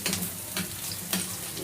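Onion and garlic frying in a pan for pork dinuguan, a steady close sizzle with a few brief stirring scrapes and no talk.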